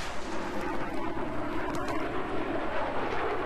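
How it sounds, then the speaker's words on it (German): A jet aircraft flying in the video game Battlefield 3, a broad, steady roaring whoosh that stays loud and constant through the short stretch, with no talk. "Das ist ein Jet."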